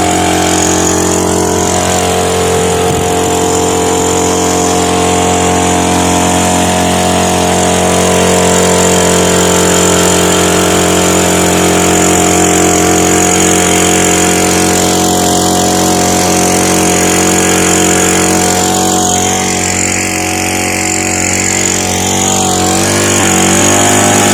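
A small motor pump for garden watering runs without a break, loud and close, its steady engine drone carrying a metallic rattle throughout, with no talk over it.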